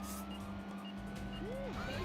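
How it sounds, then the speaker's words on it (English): An ambulance siren in the video game Yakuza Dark Ties gives a single rising and falling wail near the end, over a steady engine and road rumble. "I'm an ambulance. I literally have my sirens on."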